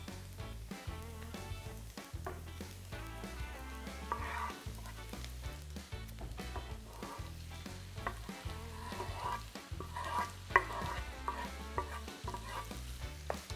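Finely minced garlic sizzles in a pan for lobster bisque, a continuous low crackling fry with occasional stirring, fairly quiet under a steady background of other sound.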